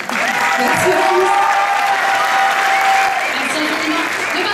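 Theatre audience applauding a Miss Côte d'Or pageant candidate, a loud, continuous burst of many hands clapping, with a faint voice or whistle-like tone riding over it partway through.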